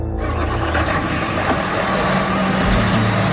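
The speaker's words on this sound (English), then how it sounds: "This semi-tractor trailer truck." A Mercedes semi-tractor trailer truck's engine rumbles steadily up close, a deep continuous drone with broadband road noise throughout.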